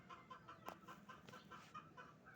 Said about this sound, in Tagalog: Ay, mga manok kayong ingay nyo!